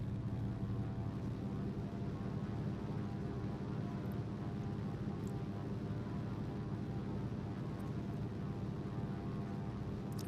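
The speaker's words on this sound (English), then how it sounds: "throttle this guy up to 1600 and now do my prop exercise" A de Havilland Beaver's piston engine held at 1600 RPM, a steady loud drone with a low propeller throb running unbroken throughout and nothing else standing out.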